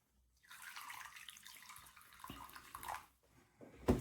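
Boiling water is poured over dental Sten impression compound. A soft, close splashing trickle swells and fades in uneven bursts over a few seconds, with no talking.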